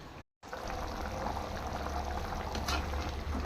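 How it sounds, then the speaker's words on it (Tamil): A pot of sambar simmers at a steady boil in a home kitchen, giving a continuous bubbling, hissing wash that runs nearly the whole time after a brief dropout near the start, with no talking. "சாம்பார் ஆல்ரெடி நல்லா மணக்க கொதிச்சு இருக்குது"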